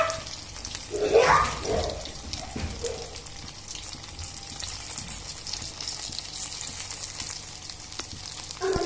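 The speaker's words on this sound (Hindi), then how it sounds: "अब इसको हम तल रहे हैं।" Food frying in hot oil in a kadhai, a steady close sizzle and crackle with a brief louder burst of spattering near the start.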